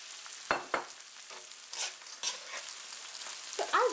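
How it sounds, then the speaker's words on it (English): Shoestring potatoes frying with chilies in hot oil give a steady close sizzle, broken by a few sharp crackles and stirring clatters, with no voices. "add the shoestring potatoes."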